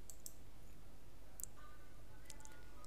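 Computer mouse clicking, a few sparse, faint, sharp clicks spread over a few seconds against a quiet room hiss.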